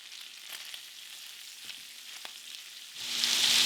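Chopped pepper and onion warming in a pan with ham, quiet scattered ticks and stirring clatter, then a loud hissing sizzle surging up near the end, with no one speaking.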